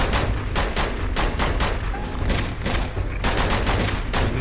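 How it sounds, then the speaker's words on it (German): Enemies fire on the player in Uncharted 2, with rapid loud bursts of machine-gun fire and gunshots that continue steadily through the whole stretch. "Und er schießt auch."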